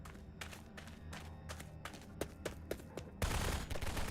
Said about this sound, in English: And now I hear gunfire.